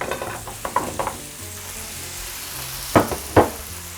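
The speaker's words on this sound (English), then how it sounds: "So that pan is heated up now. I'm gonna add our 2 pounds worth of potatoes." Two pounds of potatoes sizzling in hot olive oil in a large skillet, a steady frying hiss broken by a few light scrapes early on and two sharp knocks of a utensil near the end.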